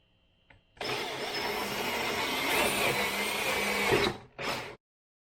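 Power drill boring through material with a bit while building a gas roof pump proportioner, a steady loud whirring grind of about three seconds that ends in a brief burst and then a short second run.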